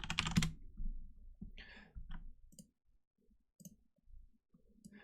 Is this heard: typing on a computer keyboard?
yes